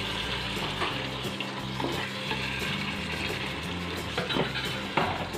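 Cooked beef with masala and its liquid sautéing in a pan gives a continuous close sizzle and frying crackle, broken by scraping stirring strokes, with no one talking.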